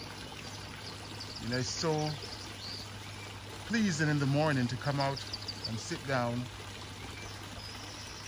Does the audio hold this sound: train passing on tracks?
no